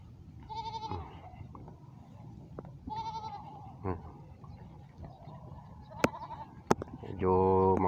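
Goats bleat in short, wavering cries on a farm after heavy rain, two at first and a louder cluster at the end, over quiet outdoor background with a few sharp clicks.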